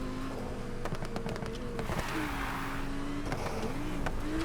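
A race car engine in the game NFS Heat drones steadily, its pitch dipping and climbing through gear changes, with a short burst of brief crackles near the start and no talk.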